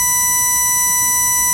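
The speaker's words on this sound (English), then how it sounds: "It's a solid tone that's slightly more agitating" A SpotOn GPS dog collar sounds its warning, one steady unbroken electronic tone held at an even level throughout, close by and alone.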